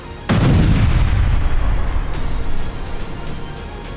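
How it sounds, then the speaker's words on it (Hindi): Israeli air strike bombing in northern Gaza: one sudden, heavy blast followed by a long rumbling roar that slowly fades, loud and close, with no voices. "उत्तरी गाजा में इजरायल ने भीषण बमबारी की"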